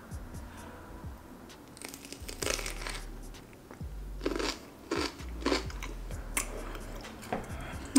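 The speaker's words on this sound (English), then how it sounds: "Let me take another bite." Close, crunchy bites and chewing on a homemade sushi boat made with cucumber, rice and shrimp, irregular crisp crunches and wet mastication over a quiet background, without talk.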